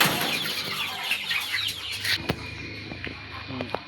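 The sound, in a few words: chickens clucking while being fed in the morning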